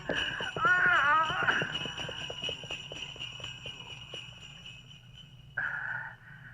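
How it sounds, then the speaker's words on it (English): A radio-drama horse gallops away pulling a sledge, its hooves beating a quick, steady clip-clop that slowly fades into the distance. Brief vocal sounds break in near the start and again near the end. "The horse has fled with the sledge."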